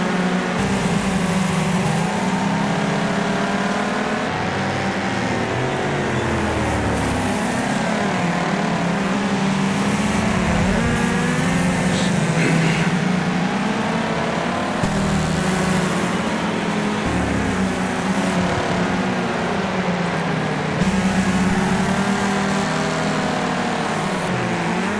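Race cars roar through a Wreckfest event at Kingston Raceway, engines droning and revving continuously at high volume as the pack jostles, with no voices over the steady motor noise.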